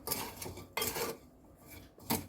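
A spoon stirs chopped raw mango pieces with salt in a metal vessel for mango pickle, giving a few close, soft clinks and scrapes in separate bursts without any talking.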